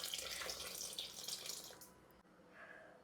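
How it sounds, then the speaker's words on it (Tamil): Water runs and splashes from a tap into a cooking pot while preparing a sweet potato kuzhambu, a steady close pour for about two seconds that stops abruptly, followed by quiet kitchen room tone. "கொஞ்சம் வந்து நம்ம தண்ணி விட்டுப்போம்."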